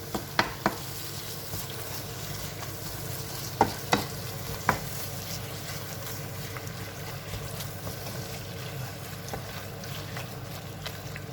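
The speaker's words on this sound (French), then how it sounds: "Donc on mélange ensemble le temps que le fromage fonde" Leftovers stirred in a pan as cheese melts, a soft continuous sizzle under a few sharp utensil clinks against the pan early on, then steady quiet frying and scraping.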